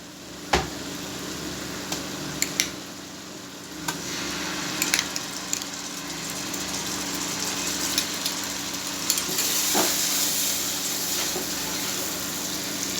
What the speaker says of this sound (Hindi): तीस सेकंड भुनाई करनी है